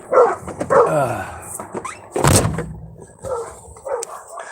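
A dog barks nearby in a few sharp bursts, with one louder bark midway, while muffled sounds and a brief voice surround it.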